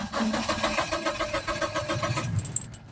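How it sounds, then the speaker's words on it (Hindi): A Mahindra Bolero FB 1.7 turbo pickup, in neutral with its engine light on, cranks with a steady rhythmic churn for a couple of seconds, then stops without catching, leaving a faint click. "ये गाड़ी अपन ने ऑन की, बिल्कुल न्यूट्रल है एंड यहाँ पर देखो इंजन लाइट शो हो रही है और ये स्टार्ट भी नहीं हो पा रही है"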